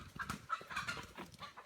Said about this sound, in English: Chickens not so happy.